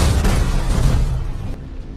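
In The Last of Us, a heavy, roaring rumble follows a truck slamming into a house and exploding, loud and low, fading gradually with a couple of sharper crackles mixed in.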